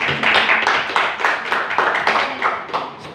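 Students in a classroom clap together in a brief burst of applause, with a dense patter of hand claps that holds steady for about three seconds and rises in a few louder pulses.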